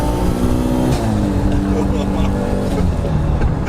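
A fully forged Audi RS2 engine drones loudly from inside the cabin, a steady low rumble with shifting pitch, with people talking over it.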